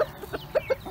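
Zibrit rooster and hens in a coop clucking in a few short, close bursts, with quiet gaps between the calls.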